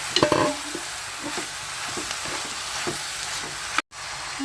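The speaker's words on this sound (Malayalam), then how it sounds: "ഇതിലേക്ക് നമ്മൾ ഈ ചിക്കൻ ചേർക്കണം." Chicken is stirred and sautéed in a pan over already-softened shallots for a chicken curry, giving a steady close sizzle with repeated scraping clatter from the stirring and no talking.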